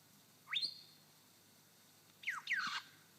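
A lyrebird in a Victorian forest imitates the crimson rosella with a single sharp upward whistle, a pause, then a pair of strong sweeping whistled notes, clear against a quiet background with no voices.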